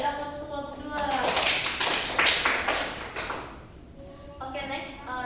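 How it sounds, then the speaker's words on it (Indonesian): A classroom group of students applauds group 2, a fairly loud burst of clapping lasting a few seconds under and around a teacher's speaking voice. "beri aplaus untuk kelompok 2"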